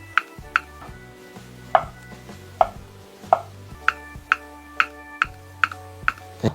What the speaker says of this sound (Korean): 이렇게 얇게 썰어줍니다